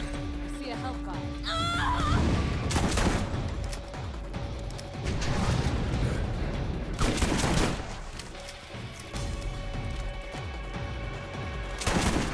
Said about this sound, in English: Yeah, I'm using a shotgun.